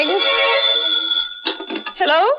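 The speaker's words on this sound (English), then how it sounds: "Before I even had time to think, the phone rang." A telephone rings in an old-time radio drama: a steady, loud electric bell trill lasts just over a second, then a voice follows.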